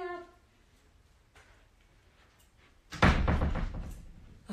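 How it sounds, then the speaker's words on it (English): An indoor door is pushed shut with a single loud thud and brief rattle after a few quiet seconds of faint background noise. "I gotta go close the door."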